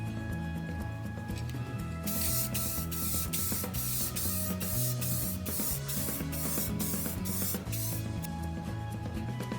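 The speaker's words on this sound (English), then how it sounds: "then we'll seal the entire plaque with some more Krylon" Krylon spray coat hisses from an aerosol can in a series of short, regular bursts while sealing a painted wooden weathervane clock plaque, close by, over steady low background hum.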